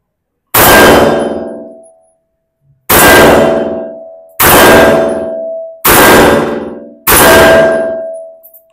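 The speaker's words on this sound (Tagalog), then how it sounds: "Firing." A Stribog SP9A3SG pistol-caliber carbine with a Glock-compatible magazine fires five loud, sharp shots, each followed by a ringing decay, spaced about one and a half seconds apart.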